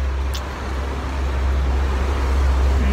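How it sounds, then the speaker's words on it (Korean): Car traffic on a rainy street in France makes a dense, constant roadway rumble with hissing tyre spray, one brief high squeak early on, and no voices. "오늘 비가 오다 보니까 좀 차들이 조금 더 시끄러운 소음이 발생하는 것 같네요."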